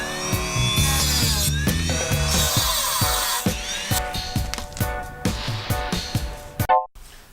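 Power tool cutting off the rivet ends on a fiberglass bumper, a loud close whining motor with rising and falling pitch and repeated gritty bites into metal, ending abruptly.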